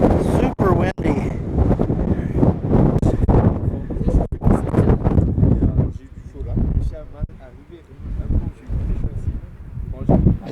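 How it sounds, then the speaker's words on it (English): Strong gusts at a Grand Canyon South Rim overlook buffet the microphone with heavy, uneven low rumbling, while a person talks over the wind for much of the time. "Super windy."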